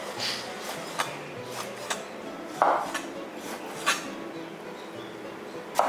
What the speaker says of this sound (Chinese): 再来切一点猪肉